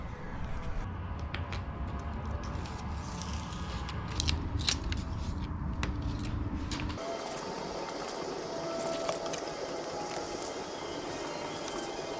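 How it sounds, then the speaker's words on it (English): Scissors snip the backing paper of car vinyl during a pinstripe livery install, a run of close, crisp cuts over a steady background hum. "I cut half of the paper that the vinyl is sticking on"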